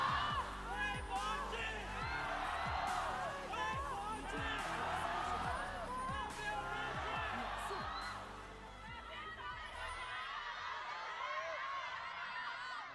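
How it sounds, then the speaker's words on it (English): An esports arena crowd cheers and whoops at an LPL League of Legends playoff game, a broad roar of voices that fades somewhat toward the end, with a caster talking over it. "Crowd still energized"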